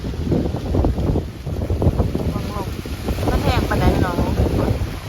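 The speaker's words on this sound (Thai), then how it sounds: "ีอุ้ย ลมหนาวเถอะ" Cold wind blows outdoors in a rural yard, buffeting the microphone with loud, gusty rumbling throughout while people talk over it.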